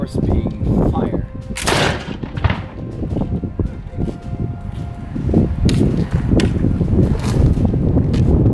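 Black-powder musket volley fired during a military demonstration at Fort Niagara, heard as one sharp loud outdoor blast with rolling echo, followed by crowd murmur and later further booming reports over steady wind noise.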